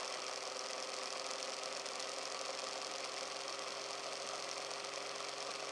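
A Bedini motor runs steadily with a constant mid-pitched mechanical whir and a faint ticking buzz, held at an even level as its speed rises, with no voices.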